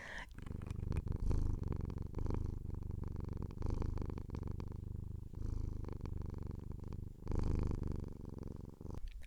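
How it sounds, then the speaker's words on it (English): A cat purrs steadily and close, a low continuous rumble rising and falling with each breath across several seconds, faint overall and with no one talking. "I hope you could hear his purrs."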